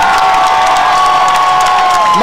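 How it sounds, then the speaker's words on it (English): Loud, sustained crowd cheering and shouting at a high school baseball game as a pitcher leaves to a standing ovation, with children's shrill shouts and scattered applause running throughout. "he's going to come out to a standing ovation"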